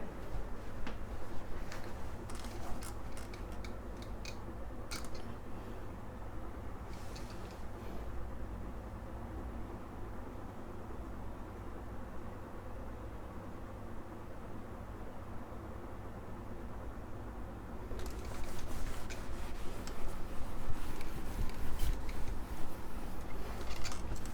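Writing is wiped off a board during a physics lecture on electric flux and Gauss's theorem, heard as steady broadband rubbing with scattered scratchy strokes early on and a louder burst of wiping near the end.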